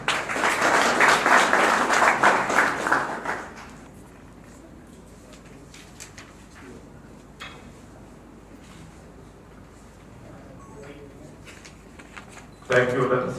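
Audience applause for a speaker at a political alliance gathering, a loud burst of many hands clapping for about three seconds, then quiet room noise with scattered sounds before a short renewed burst at the end.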